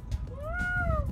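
A peacock gives a single drawn-out, rising-then-falling wail that sounds like a cat meowing, fairly close and clear over faint outdoor background noise.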